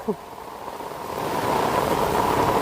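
Heavy rain pours down in a village, a dense hissing wash that swells steadily louder over a couple of seconds after a brief voice at the very start.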